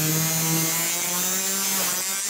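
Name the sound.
saw cutting chrome exhaust pipe at 45-degree angle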